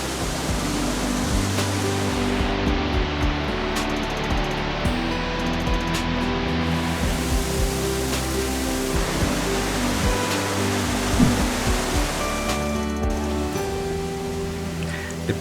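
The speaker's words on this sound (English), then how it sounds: "More than 90 waterfalls connect the 16 Cascading Lakes" Many waterfalls and cascades linking the lakes at Plitvice Lakes National Park, a continuous broad rushing roar of falling water that stays steady throughout, with no voices.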